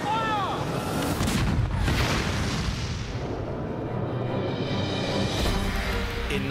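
A WW2 German tank cannon fires with a heavy boom, followed by a long rumbling roar of battle noise that stays loud for several seconds.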